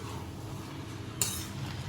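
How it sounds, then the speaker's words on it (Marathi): Mushroom fry pulao rice is stirred in a small kadhai over the heat, a quiet steady rustle with one brief, sharper scrape of the spoon against the pan. "तर अशा प्रकारे आपला भात पूर्ण मिक्स करून झालाय"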